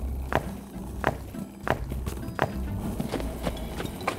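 Four horses walking together, their hooves clip-clopping in a steady, fairly close rhythm of distinct knocks roughly every second over a low rumbling background.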